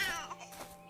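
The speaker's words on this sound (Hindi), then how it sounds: "ये कैसी रोने की आवाज है?" A baby girl cries in a short burst, the wail rising then breaking into softer whimpers, fairly close and heard alone in a cartoon story.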